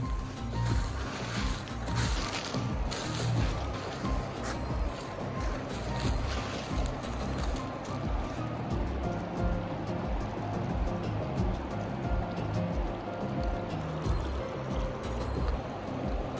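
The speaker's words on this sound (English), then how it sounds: "we could hear the river in the background" A river flows beside an orchard meadow at Buckner Orchard in Washington, giving a constant broad rushing wash heard from a moderate distance, steady throughout with occasional faint knocks and no talking.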